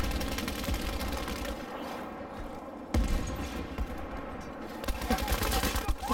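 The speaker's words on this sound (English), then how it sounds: "oh my god, machine gun turret" A machine gun turret in Battlefield V fires dense, rapid rattling bursts that carry through the whole stretch, with a sharp loud crack in the middle. Battle noise runs underneath, and a voice speaks over it.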